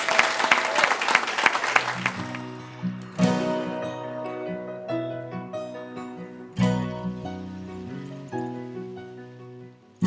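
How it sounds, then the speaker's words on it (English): An elementary school audience applauds for the Terrific Kids for about two seconds, then the clapping fades as a piano or music track with sustained chords takes over, swelling again midway. "let's give a round of applause to all of our terrific kids"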